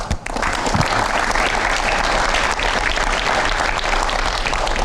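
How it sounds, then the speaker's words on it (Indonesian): Sustained applause from a studio audience on an Indonesian television talk show, loud and steady throughout with a brief dip near the start and no speech over it. "Oke, kita kasih tepuk tangan."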